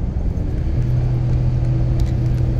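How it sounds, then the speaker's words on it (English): A truck slows on engine braking on an Ontario highway, heard from inside the cab as a steady, loud low drone with a humming engine tone that settles in and holds. "So now the truck actually uses engine braking, like a Jake brake."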